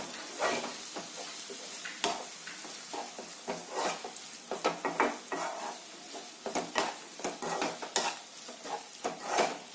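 A spoon stirs tomatoes with turmeric in a sizzling pan for moong dal gravy, making repeated scraping and clinking strokes over a constant frying hiss, close and alone.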